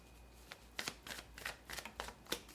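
Tarot cards are shuffled in a series of quick, soft riffling bursts, close and quiet, with brief pauses between them.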